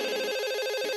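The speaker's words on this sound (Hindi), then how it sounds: "अरे चलो उठाओ ना फोन," In an indoor Hindi TV comedy scene, a telephone rings with a loud, steady warbling tone and no voices over it.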